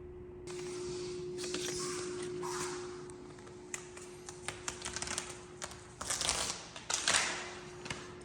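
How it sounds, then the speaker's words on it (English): Blade slicing through Vahallan Enchanted "Bliss" wallcovering during trimming, a run of close scratchy cuts and taps that grow denser and louder toward the end over a steady faint hum. "So I'm gonna cut it now."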